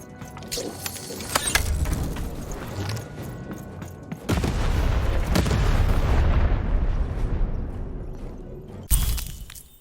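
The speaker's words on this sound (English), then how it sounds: "Shoot the button to fire the cannon." Cannon blasts in the video game Lost in Random: a sharp boom near four seconds opens into a long, loud rumbling roar, with another burst arriving near the end.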